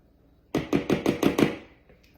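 A spatula scrapes cake batter from a mixing bowl into a baking pan in six quick, evenly spaced strokes, close and fairly loud, then stops.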